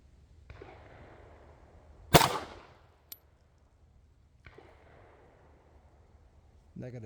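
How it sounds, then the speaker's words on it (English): Romanian Beretta 1934 pistol at a range: one sharp, loud shot with a short ringing tail, then a small metallic click, under quiet background talk. "let's see how these bullets cycle out of this magazine"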